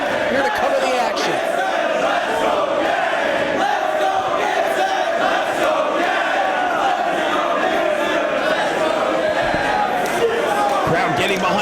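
Crowd at a Ring of Honor professional wrestling event roaring and cheering continuously, a loud sustained arena din with occasional thuds, while a commentator talks over it.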